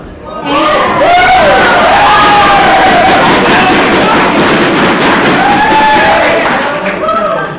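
A wrestling event crowd roars and cheers loudly for several seconds, a dense swelling wall of voices with whoops and shouts rising and falling.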